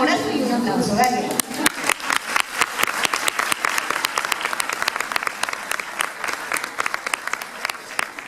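A voice speaks briefly, then an audience at an educational institute breaks into applause, a run of crisp, close, fairly loud hand claps that carries on steadily for several seconds.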